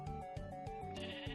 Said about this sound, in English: we're going to right-click, which will shear the sheep.